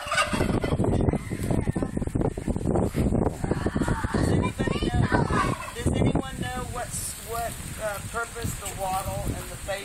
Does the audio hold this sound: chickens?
yes